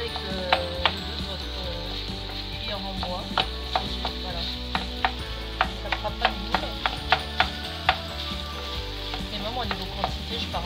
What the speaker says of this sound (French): Prenez le côté de votre cuillère en bas. Voilà, vous cassez bien la viande.